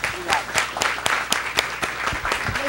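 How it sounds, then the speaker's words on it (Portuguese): A live audience claps together after a closing thank-you at a digital journalism week talk, a dense burst of applause with a few sharp individual claps standing out over a low background hum. "Uma salva de palmas para eles."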